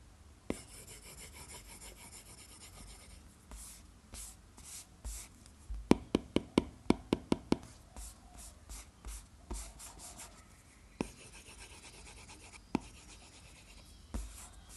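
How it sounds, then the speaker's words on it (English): A stylus scratches and scrapes across a textured matte screen protector up close, with a quick run of tapping strokes midway, quiet and dry. "And this is how the matte screen protector sounds."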